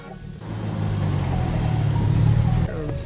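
Steady road traffic with a car engine droning close by and a vehicle rushing past, a loud broad rumble that ends abruptly near the close, with no talking.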